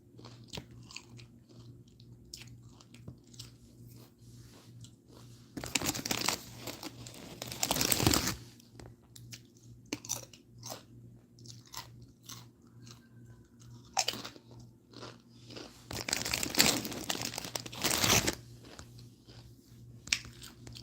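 Doritos Flaming Hot chips are chewed close to the mic in loud crunchy bites, with bursts of crackling bag crinkle between quieter chewing spells.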